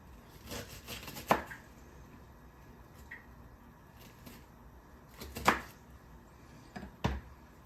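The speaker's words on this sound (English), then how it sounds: "Loose chop." Knife chopping chili ingredients on a cutting board in a home kitchen, a few loose, uneven strikes spaced out over several seconds, close and fairly quiet with low background hum.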